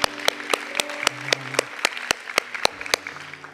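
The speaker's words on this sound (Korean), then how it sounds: "우리 하나님께 감사의 박수를 드리겠습니다" A church congregation at a Sunday worship service claps in steady unison, sharp evenly spaced beats about four per second over soft sustained keyboard tones, moderately distant.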